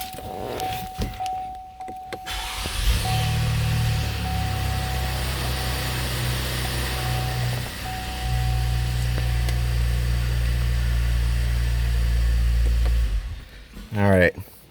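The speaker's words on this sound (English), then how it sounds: "that bonus is a quick startup of all of our cars" A Buick car cranks and starts, then settles into a steady low idle drone, with a faint whine and some clicks and rustling near the end.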